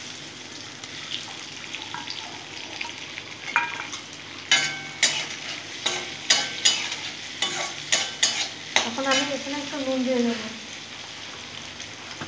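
Chopped onions fry in oil with cardamom and cinnamon for chickpea ghugni, a steady sizzle broken by sharp scraping stirs that quicken toward the end, while a voice speaks briefly over it.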